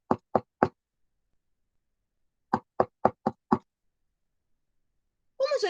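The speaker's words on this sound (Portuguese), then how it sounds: "alguém bateu à porta do castelo" Knocking on a castle door as a storytelling sound effect, three sharp raps, a pause, then five more in an even rhythm, close and dry in silence, followed by a voice starting to speak.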